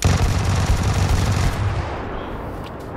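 Rapid bursts of automatic gunfire from a PUBG Lite team deathmatch match on PC, loud and dense for the first half before easing into a quieter, sustained rattle.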